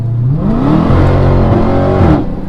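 A Dodge Hellcat's supercharged engine revs loudly and close up, the pitch climbing and holding in a strong throttle blip before easing off, with no voices over it.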